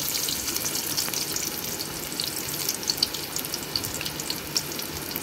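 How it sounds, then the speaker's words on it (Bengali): Chopped onion sizzles in hot oil in a pot, a steady close crackle dotted with sharp little pops and spits throughout, with no voices over it. "তো আমি পাতিলে তেল দিয়ে দিছি। এখন দিব পেঁয়াজ কুচি,"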